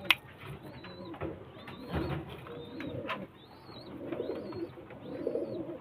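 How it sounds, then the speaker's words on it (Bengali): Lively domestic pigeons cooing nearby, a repeated soft rolling coo in short phrases every second or so, fairly quiet, with faint rustling and background noise between calls. "তো পায়রা খুবই অ্যাক্টিভ, ছটপটে পায়রা।"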